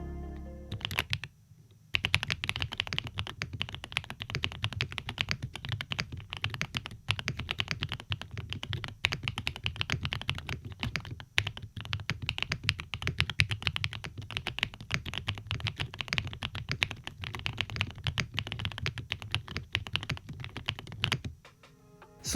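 Someone types on an ND75 budget mechanical keyboard, with a fast, continuous stream of close, crisp keystrokes and occasional heavier thocks. The typing runs for about twenty seconds with no voices.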